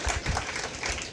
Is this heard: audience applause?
yes